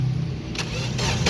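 Car engine cranking on its starter while being diagnosed for a no-start fault with no spark and no injector pulse; a steady, close, loud rhythmic churning drone with no voices.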